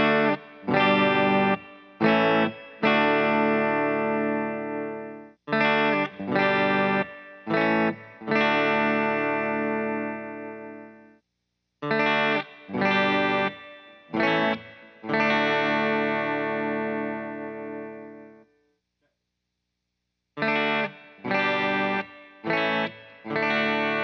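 Playback of an electric guitar amp recorded through a microphone, with distorted, effect-laden chords struck in repeated rhythmic groups. Some chords are left ringing before short silences, and no voices are heard.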